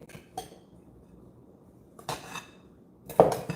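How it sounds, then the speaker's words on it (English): A spoon mixes kale quinoa salad in a bowl, giving a few sparse, close clinks and scrapes of metal on dish, the last one the loudest, with no talking. "I'm gonna bring a spoon to mix it."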